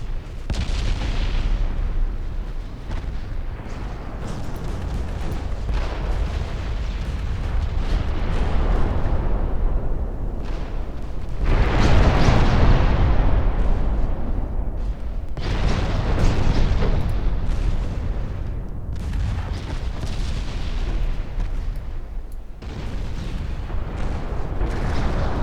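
Naval guns firing high-explosive shells in the warship game Ultimate Admiral Dreadnoughts, a continuous heavy rumble of overlapping booms and blasts that swells and fades, loud and dense throughout with no voices.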